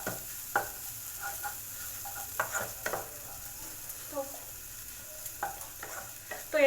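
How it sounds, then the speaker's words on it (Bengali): Egg bhujia being stirred in a frying pan, a spatula scraping and tapping in irregular strokes over a faint steady sizzle, close and fairly quiet with no talking. "এটা আমি এবার ভালো করে একটু নেড়ে চেড়ে নিচ্ছি"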